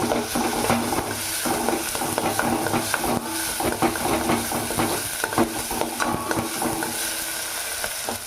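Ginger garlic paste is stirred in hot oil in a pan, a spoon scraping and clinking against the metal over a steady sizzle, close and continuous with no voices.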